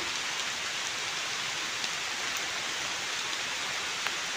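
Rain falls during a mushroom-foraging outing in rural Thailand, a steady dense hiss of drops on surfaces with a few sharper patters, continuous and fairly soft, with no voices.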